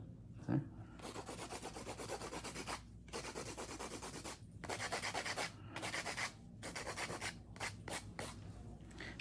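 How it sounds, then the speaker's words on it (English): Acrylic nails being hand filed to even out thickness and surface, a close rasping scrape in rapid back-and-forth strokes, coming in bursts separated by brief pauses and quickening near the end. "go through and hand file the thickness, just even out the surface area"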